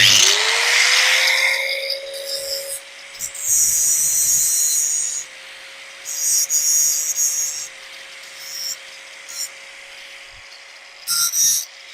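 Intermittent rough rubbing bursts of sandpaper scraped against rusty metal, recurring in short strokes over a steady electric hum.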